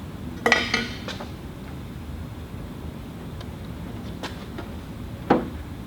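Bolts going into a DIY hood scoop on a supercharged rally Miata make a few sharp metallic clinks and clanks, close by, over a quiet background, with one loud clink early and another near the end.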